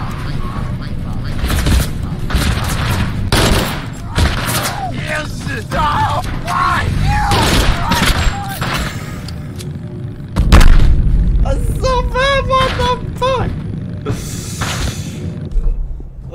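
Gunfire and booming shots from the video game Totally Accurate Battlegrounds, rapid bursts and loud cracks packed together with shouting voices over them, a heavy blast midway and continued firing after.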